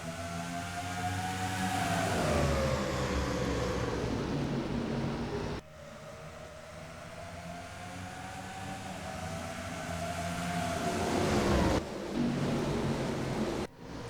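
Stock cars roaring off at the green flag in the NR2003 racing game at Richmond, a loud continuous engine drone with rising pitch as the pack accelerates, cutting between sustained layered engine tones.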